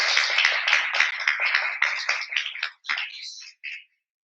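Polite applause from an audience welcoming a speaker at a cultural talk in Mexico; scattered clapping at moderate level that thins out and fades to a few last claps near the end.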